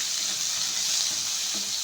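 Onions frying in a pan give a dense, steady sizzle, loud and close, with faint stirring clicks underneath and no voices.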